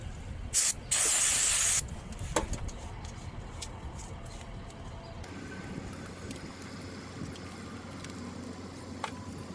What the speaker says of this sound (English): I'm gonna use starter fluid here.